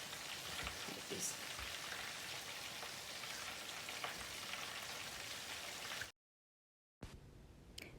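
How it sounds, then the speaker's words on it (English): Fish deep frying in plenty of oil for Thai-style fried fish, giving a steady, dense crackling sizzle that runs unbroken for about six seconds, breaks off into a second of silence, then comes back. "We just start to deep fry the fish."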